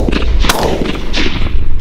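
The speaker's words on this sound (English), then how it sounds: "Sky, Sky, shoot this one" Shotgun shots during a mourning dove hunt, heard as loud, close, sharp blasts in quick succession, with one strong report near the middle and others over dense outdoor noise.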